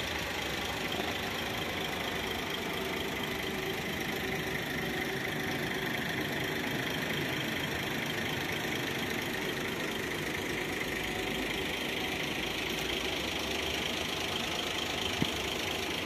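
A Hino diesel engine idles steadily in a Sinar Jaya Laksana-bodied AC business-class bus, a continuous low rumble with faint knocking that stays even and moderately quiet throughout, with no talking.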